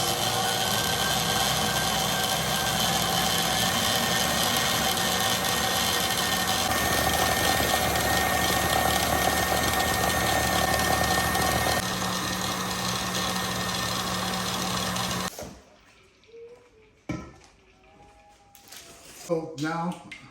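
Stand mixer churning heavy cream into butter, a loud steady motor whir with rising pitch that runs continuously for about fifteen seconds, then cuts off, leaving scattered quiet clatter.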